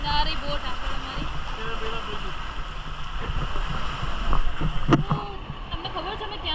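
A boat out on the sea in a lagoon in the Philippines, with water splashing and gurgling against the hull and a steady engine-like drone under intermittent talking voices.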